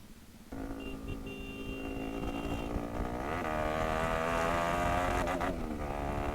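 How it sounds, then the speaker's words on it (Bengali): An RS200 motorcycle with an aftermarket exhaust idles and then revs, its steady engine drone rising in pitch and loudness partway through, heard up close with no talking. "অ্যান্ড এখন বাইক স্টার্ট করে ফেলেছি"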